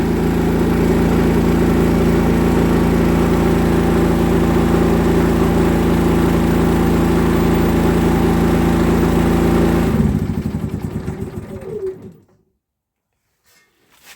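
A KS 4000iEG S dual-fuel generator runs loud and steady on gas with a low, even drone, then falters as the gas is turned down, sputtering and dying away into silence after about twelve seconds.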